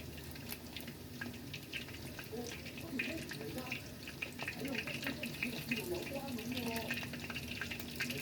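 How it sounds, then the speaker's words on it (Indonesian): Bread snacks frying in hot oil with a steady, dense sizzle and crackle throughout, some faint clinks and stirring noises mixed in, no talking. "Kita panaskan minyak, kita goreng hingga sampai dengan kuning merata."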